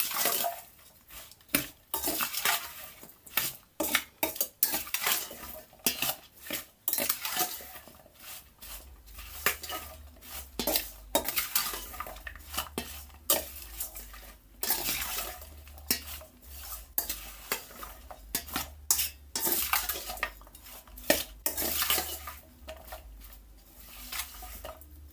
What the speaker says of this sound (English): Now I'm gonna stir it up.